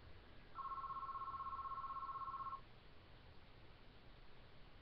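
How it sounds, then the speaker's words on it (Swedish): A home telephone gives a single steady electronic ring tone lasting about two seconds, faint, over a quiet room background. "Det är bara vår telefon där jag ringer."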